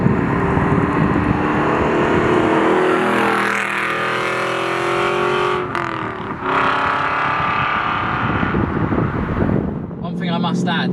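A modified Aston Martin Vantage V8 CTR accelerates hard, its engine note climbing in pitch through the gears, loud and close for about eleven seconds, with a brief dip midway and a voice speaking over the top.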